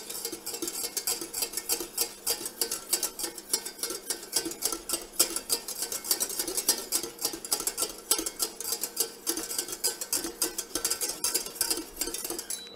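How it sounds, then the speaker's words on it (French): A whisk beating chocolate cake mixture in a bowl, rapid, steady metallic clicking and scraping against the sides, close and continuous with no talking. "on fouette bien partout"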